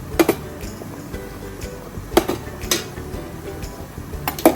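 Metal idli plates filled with batter are set into a steaming pot, making a few sharp clinks and clatters of steel spaced through a quiet kitchen background.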